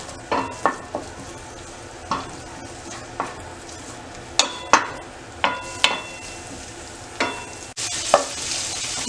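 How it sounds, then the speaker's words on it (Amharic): Onions fry in a pan for Ethiopian kita firfir with vegetables, a steady sizzle under repeated sharp clinks and scrapes of a stirring utensil against the pan, with louder hissing near the end; no one speaks. "ሽንኩርቴን አረጋለሁ።"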